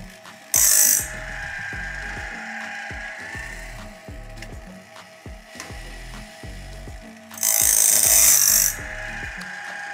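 LOGOSOL Grindlux band blade grinder robot working through its cycle, a steady rhythmic ratcheting clack of the feed mechanism stepping the blade, with two bursts of high grinding hiss, close and alone.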